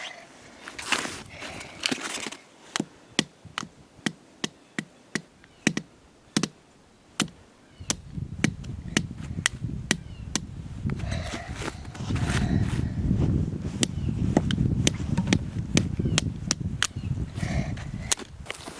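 Sharp hammer taps drive a tap into a maple tree one after another, sometimes spaced, sometimes in quick runs, over rustling outdoor background noise.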